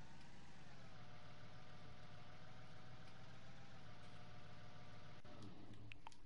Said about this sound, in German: Hier kann der Motor aus.